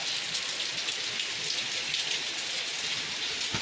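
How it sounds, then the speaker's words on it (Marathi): Heavy morning rain pours down at a bungalow, with water streaming off the terrace in several places, making a dense, unbroken close roar. "आज बंगालमध्ये खूप पाऊस सकाळी सकाळी."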